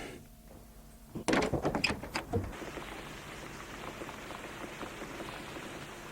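Steady rain hisses throughout, with a burst of knocking and clattering near the start before settling into a continuous, moderately loud downpour.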